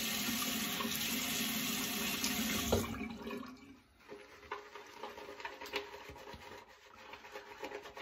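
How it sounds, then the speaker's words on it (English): Running tap water trickles and splashes for a few seconds, then gives way to soft rubbing and patter as water is worked into a Menrock Sicilian Lime shave cream lather. "I'm just going to add a touch of water."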